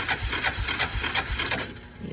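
A free old boat's engine that has just started runs at idle with the choke on, giving a faint, rapid, rattling chug with evenly spaced beats that thin out near the end, heard close and alone.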